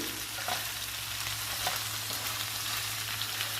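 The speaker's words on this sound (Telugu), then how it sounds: "దొండకాయ ముక్కల్ని కలుపుకుంటూ వేయించుకోవాలి" Pieces of ivy gourd stir-fry in a pan, making a continuous soft sizzle broken by faint scraping stirs, with no talk.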